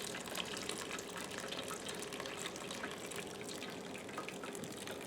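Simmered blackberry juice pours into a cheesecloth-lined strainer, a soft continuous trickling and splashing of liquid. It is fairly quiet and steady throughout, with no voices.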